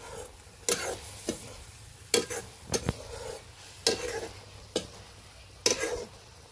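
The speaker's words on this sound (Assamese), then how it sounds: "চামুচেৰে লৰাম।" Taro stems (colocasia) cooking in a wok are stirred with a spoon, giving several sharp scraping strokes spaced a second or so apart over a faint background sizzle.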